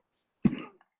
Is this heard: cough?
yes